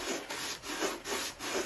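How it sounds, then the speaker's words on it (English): Sandpaper rubbed back and forth along the wooden fuselage of a 60-size Top Flite P-40E Warhawk model airplane, about five even, rhythmic rasping strokes, close and alone. "And when you sand, you don't wanna just sand like this."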